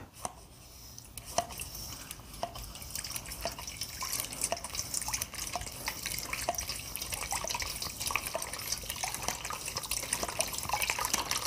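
Water drains from a soaked car floor mat in a steady patter of close drips and trickles, with irregular sharper splashes that grow denser and busier toward the end.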